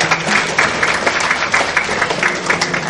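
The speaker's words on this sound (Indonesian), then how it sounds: "Kita tepuk tangan untuk kita karena kita bisa hadir hari ini." Brief burst of audience applause at a parenting seminar, many hands clapping together in a steady, fairly loud patter that lasts under three seconds without speech.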